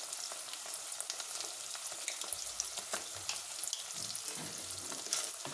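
Turmeric and chilli powder frying in oil for restaurant-style paneer butter masala, a steady close crackling sizzle with faint stirring scrapes throughout, no voices.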